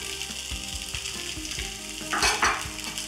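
Sabudana khichdi with potatoes sizzles in a pan while a spoon stirs it, scraping in a steady rhythm over constant frying noise, with a louder burst of sizzle near the end; no one speaks.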